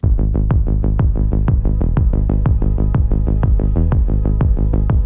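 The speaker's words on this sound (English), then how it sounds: "but with the pad sound, with the kick, it sounds like this." A steady four-on-the-floor kick thumps under a sustained synth pad chord that pumps rhythmically with each beat, loud and upfront.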